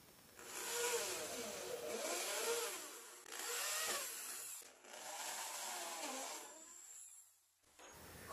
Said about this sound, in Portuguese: Farei um furo bem ao centro de cada quadrado.